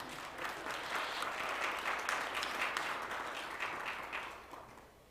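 Steady applause from a conference audience at a crypto economics event in Denver, broad and even clapping from many hands sustained for about five seconds at moderate distance, with no talking over it.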